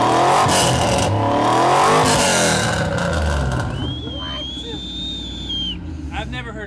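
A V8 Mercedes SL500 with a straight exhaust and junkyard muffler roars loudly at close range, revving hard and then dropping toward idle, with a whistling tone and faint talk near the end.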